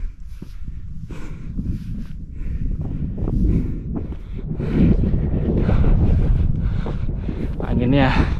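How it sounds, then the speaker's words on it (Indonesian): Strong wind sweeps the summit of Mount Agung at 3,142 metres, roaring and buffeting the microphone in heavy low gusts that swell louder toward the end, with faint movement sounds underneath. "Anginnya cukup kencang di sini."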